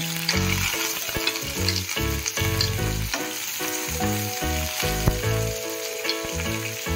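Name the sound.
green chillies and curry leaves sizzling in hot oil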